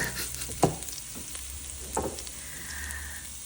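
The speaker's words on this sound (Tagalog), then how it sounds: "Tapos, igisa nyo lang yung bawang." Garlic sautéing in hot oil in a pan, a steady close sizzle broken by a couple of sharp stirring scrapes and clatters.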